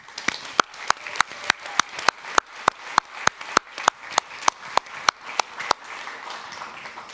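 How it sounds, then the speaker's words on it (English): A small group applauds the media team at a youth conference, with sharp, fairly regular claps that ring out clearly for several seconds before thinning and fading near the end. "let's give a big round of applause to the whole media team"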